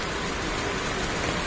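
Heavy rain lashes a residential street in Nandini Layout, Bengaluru, as a brief, loud, unbroken wash of rushing noise with no voices.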